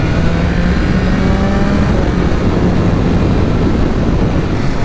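A motorcycle engine revs and drones loudly and continuously at close range, a dense steady roar with no breaks and no speech.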